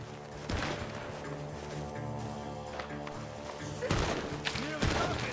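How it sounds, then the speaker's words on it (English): Gunfire from a barn in the video game Red Dead Redemption 2: a few muffled, distant bursts of shots, one early and a denser cluster near the end, set against a continuous bed of game ambience and voices. "The gunshots are coming from that barn."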